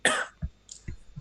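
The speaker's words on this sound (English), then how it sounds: "I think I'm going to cough myself to" A person nearby, streaming commentary on a football match, coughs in a harsh burst followed by a few lower, softer chesty coughs spread over about a second.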